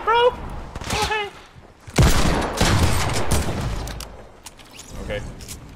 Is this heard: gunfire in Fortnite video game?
yes